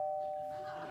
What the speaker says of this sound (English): I didn't know we had a doorbell.